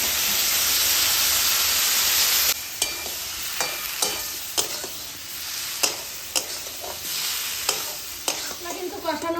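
Spices for a pointed gourd and shrimp curry, with ginger paste, turmeric and red chilli powder, sauté in a pan. A loud, steady sizzle at first gives way to softer frying broken by repeated sharp scrapes and stirs, with no voices.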